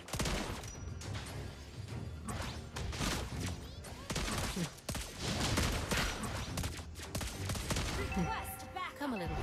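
Gunfire from a hero in the mobile battle arena game Mobile Legends: Bang Bang, a dense stream of shot and impact effects layered with game music and announcer voice lines, fairly loud throughout.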